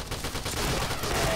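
Rapid gunfire from the zombie mode of the shooter game Point Blank rattles in a dense, continuous burst of close, loud shots, running unbroken for its brief length.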